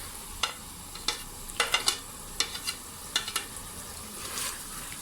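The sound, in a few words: frying ginger and green chilies in pan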